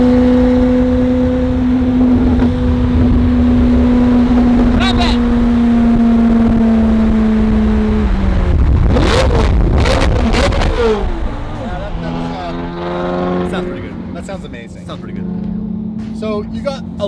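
A Ferrari sports car engine drones and revs loudly, rising through sharp bursts of acceleration, with people talking over it.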